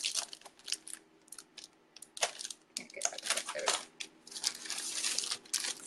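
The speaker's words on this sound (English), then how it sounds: "And then I'm going to cut up some romaine lettuce." Romaine lettuce being cut up on a board in a home kitchen, giving a run of crisp crunching, tearing slices in quick bursts, close and fairly loud, with no talking.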